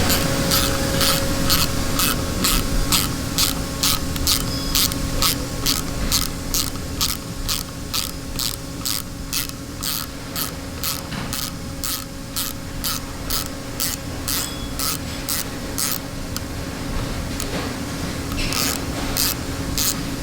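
A driver tool works a thread insert into a spark plug hole in an LS cylinder head, giving a steady run of rhythmic scraping, grinding strokes, close and uninterrupted.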